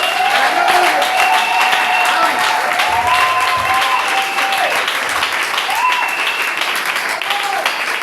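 A church congregation claps steadily through the whole stretch, with voices and sustained tones carrying over the dense applause.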